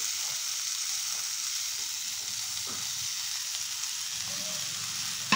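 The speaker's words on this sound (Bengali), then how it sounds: "গ্যাসের ফ্লেমটা একদম লো করে এবার এইভাবে একটু নাড়াবো" Mango pieces cooking with sugar for pickle fry in a pan over low flame, giving a steady close sizzle with soft stirring scrapes and a small clatter at the end.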